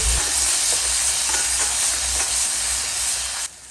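Beef roast masala, Kerala style, sizzles loudly in an open pot, a dense continuous frying hiss with faint scrapes of stirring, cutting off abruptly near the end.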